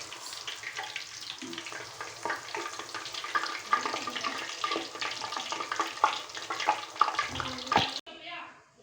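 Puri frying in ghee in a small wok hisses and sizzles steadily up close, with bubbling and a few stirring scrapes, while someone talks over it; the sizzle stops abruptly near the end.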